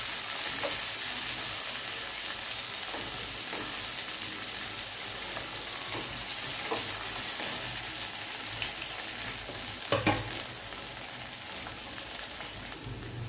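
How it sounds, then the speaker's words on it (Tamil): Chopped tomatoes sauté in a hot pan, giving a continuous crackling sizzle with soft stirring scrapes and one brief louder spatter burst partway through. "தக்காளி சேர்த்து நல்லா வதக்கி விட்டுக்கோங்க."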